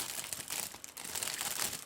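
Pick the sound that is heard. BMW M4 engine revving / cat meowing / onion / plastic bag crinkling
plastic bag crinkling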